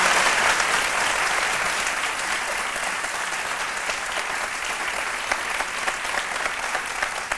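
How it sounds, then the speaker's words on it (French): Audience applause for an honoured cyclist, a sustained, loud wash of clapping that holds evenly throughout without speech. "je vous demande de l'applaudir très très fort"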